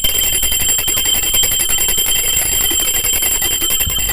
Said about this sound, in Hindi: मंदिर की घंटियां जोर जोर से बजने लगती हैं